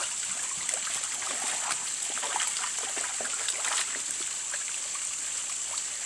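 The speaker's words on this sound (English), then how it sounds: "we're just going to get in here and we're just going to rinse this out really good" Spring-fed creek water trickles and splashes steadily while acorns are rinsed in it, a close, continuous wash of running water with small irregular splashes and no voices.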